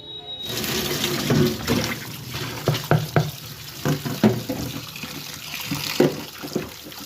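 Rohu fish being washed under running tap water, a steady splashing stream broken by repeated sharp knocks and sloshes as the fish is handled in a vessel, close and fairly loud throughout.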